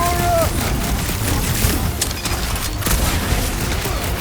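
Sci-fi blaster weapons trade fire in a dense gunfight near a reactor in Guardians of the Galaxy, with steady rapid shots and bursts over continuous background noise.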